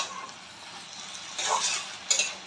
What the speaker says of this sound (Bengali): নাড়াচাড়া নাড়াচাড়া করে নিতে হবে।